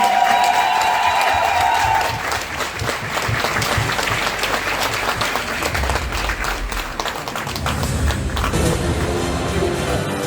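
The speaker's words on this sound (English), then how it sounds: "Please give her a round of applause on behalf of the family." Audience applause at a community award ceremony honoring a lawyer who served Ethiopians and Eritreans in Canada, a loud continuous wash of clapping with some cheering that swells and lasts for several seconds.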